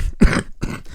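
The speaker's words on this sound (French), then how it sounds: "Ça me fait tousser." A person coughs, a few rough, throaty bursts close by, harsh and slightly grunting, packed into about a second.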